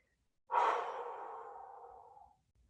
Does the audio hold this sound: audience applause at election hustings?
no